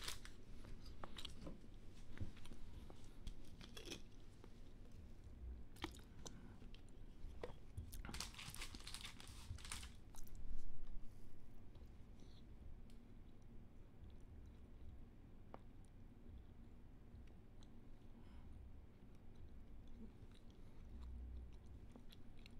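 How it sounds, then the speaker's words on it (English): Someone eats a macadamia nut and white chocolate chip cookie: faint, close crunching bites and soft chewing over a low room rumble, with a louder crunchy stretch midway. "So I'm just going to eat this."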